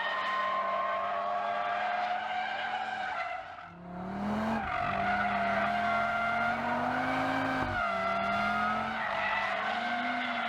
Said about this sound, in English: Let's turn left here to create some additional drift